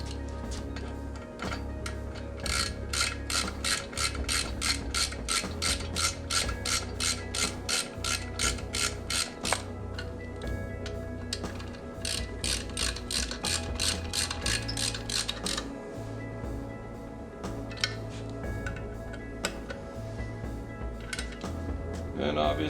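Ratchet tightening a steel fastener into an aluminum case while installing motorcycle exhaust pipes on a Harley Sportster, a long run of rapid, even clicks close up that pauses and then resumes briefly.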